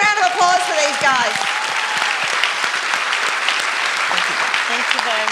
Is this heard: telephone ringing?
no